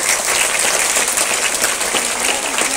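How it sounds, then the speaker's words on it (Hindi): Classroom of students clapping together in sustained, dense applause at a school assembly session, steady and loud throughout with no break. "वेरी गुड, ताली बजाओ।"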